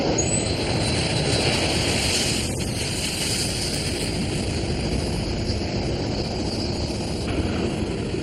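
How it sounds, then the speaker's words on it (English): A jetliner of roughly 100 tons takes off with a loud, steady, broadband roar that holds without letup throughout, with no voices. "Even though we all know there's thousands of airplanes taking off and landing every day, it's still a pretty cool thing to watch."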